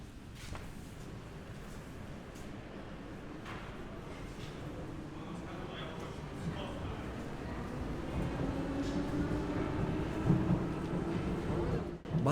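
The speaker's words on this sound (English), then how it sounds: "And now let me go into the metro again to travel one more station." Steady broadband rumble from inside a metro train travelling between stations in a Siberian city, continuous and fairly loud, swelling slightly toward the end.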